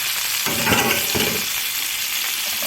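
Marinated chicken pieces and potatoes sizzle steadily in a hot pan, with a couple of louder hissing bursts as the pieces are flipped, and no one talking.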